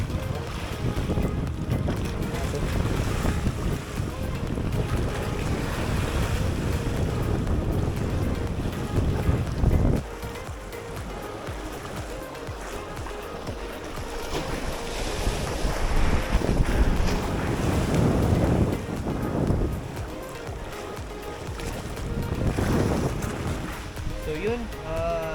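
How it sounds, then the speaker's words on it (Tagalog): Strong wind buffets the microphone on a small fishing boat at sea, with gusting rumble and water wash throughout and a voice talking at times over it. "Hindi kasi medyo malakas na rin yung hangin."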